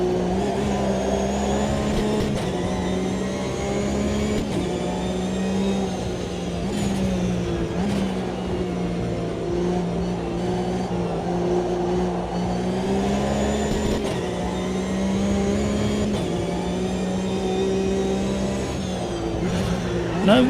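The 3.8-litre Porsche Cup race car engine in the racing game Automobilista 2 drones steadily throughout, rising and falling in pitch as it revs. Voices talk over it.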